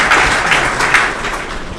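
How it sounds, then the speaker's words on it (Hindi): At a regional youth workshop in Madhya Pradesh, a hall audience breaks into loud, continuous applause, a thick crowd of clapping hands that holds steady for a couple of seconds with no voices over it. "एक बार इनके लिए तालियां जिनने काम पूरा कर लिया।"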